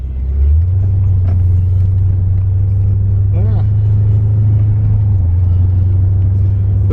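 A 1984 Corvette engine hums steadily at close range while driving on the road, a low constant drone with road rumble throughout and a brief rising tone partway through.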